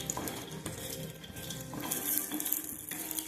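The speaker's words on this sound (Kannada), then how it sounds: "ಈಗ ಸ್ವಲ್ಪ ಎಣ್ಣೆ ಹಾಕೊಂಡು ಕೊಬ್ಬರಿ ಹುರ್ಕೊತಾ ಇದೀವಿ ನೋಡ್ರಿ." Coconut roasting in a little oil in a pan for chicken curry masala, a close steady sizzle under busy stirring, with metal spoon scrapes and clinks against the pan.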